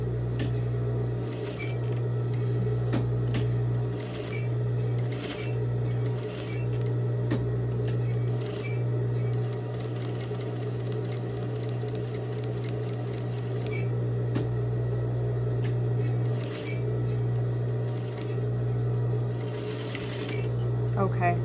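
A sewing machine stitches and back-stitches along curved lines, its steady mechanical hum running throughout with short pauses and restarts as the fabric is pivoted, while a person talks over it.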